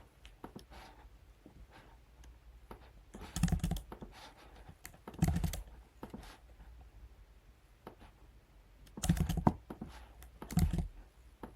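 Values typed on a computer keyboard into a settings form, a quiet scatter of key clicks with several louder clusters of rapid taps, near and alone without speech.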